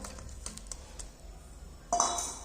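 Eggplant curry stirred in a pan: faint, scattered clinks and scrapes of a spoon against metal, ending in a louder, brief scraping stir.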